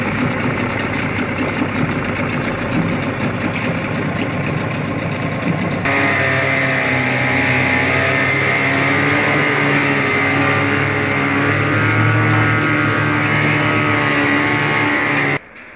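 Old outboard boat motor running steadily at idle, with carburetor tuning noted, loud and continuous for about fifteen seconds with a shift in tone midway before cutting out at the end.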